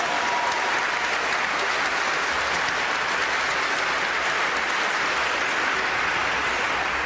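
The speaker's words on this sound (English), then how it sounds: "I want you to give the teachers, the board, and your families a big round of applause for caring about you" A large commencement audience at Cristo Rey Baltimore applauds without pause, a loud, dense, unbroken roar of clapping throughout.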